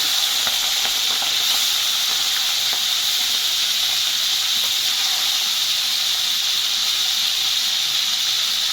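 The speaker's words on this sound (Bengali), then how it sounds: "তেলটা একটু গরম হয়ে গেছে, এবার আমি মাছটাকে একটু ভেজে নেব" Prawns coated in salt and turmeric fry in hot oil in a wok, giving a steady, loud, continuous hiss and sizzle that runs the whole time without a break.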